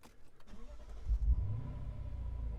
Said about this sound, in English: it's time to finally start this car up